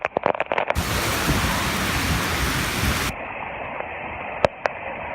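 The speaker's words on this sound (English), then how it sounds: "The rain is not letting up." Heavy downpour on a New York City bridge, a dense hiss of rain that cuts in abruptly after a few sharp knocks, then drops to a thinner steady patter with a couple of loud bumps.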